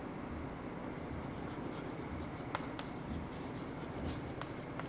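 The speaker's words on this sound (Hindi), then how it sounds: "तो इसकी डेफिनेशन लिख लेती हूँ" Pen or marker writing out a definition during a science lesson, a soft continuous scratchy rubbing with a few brief ticks, close and quiet, with no speech.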